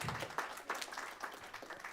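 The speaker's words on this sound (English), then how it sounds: "Give him a big round of applause." Steady applause from an audience at a Menifee city council meeting, a dense patter of many hands with a few louder bursts, fairly distant and even throughout.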